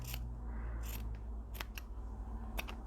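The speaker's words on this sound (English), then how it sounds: "So what I'm going to do is just cut a line" Scissors snip along a straight line through fabric while sewing a pocket, several short crisp cuts close by in a quiet room with a low background hum.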